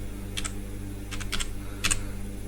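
Computer keyboard typing of HTML code, a few quiet clustered keystrokes in short bursts over a low steady hum, no voices.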